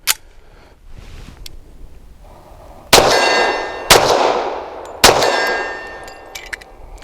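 An 8-round Wilson Combat magazine with a rubber bumper inserted into and ejected from a 1911 pistol, three sharp metallic clacks with ringing decay and some softer handling clicks between, close up, no talking.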